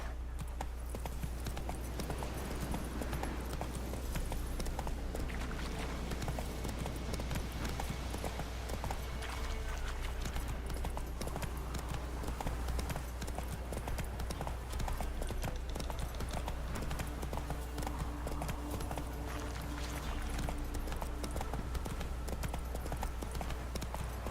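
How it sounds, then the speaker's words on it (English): Hooves of a horse galloping in The Witcher 3 video game, a fast continuous clip-clop rhythm running the whole time under a steady low drone, with occasional faint talk. "Not so fast, Roach."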